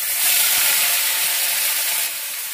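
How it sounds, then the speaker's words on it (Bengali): Ground onion paste frying in a pan, a loud, steady, bright sizzling hiss with faint low knocks underneath and a slight drop in level near the end; no voices. "ভালো করে কষিয়ে নেবো পেঁয়াজটাকে, খুব সুন্দর করে পেঁয়াজটাকে কষিয়ে নিতে হবে"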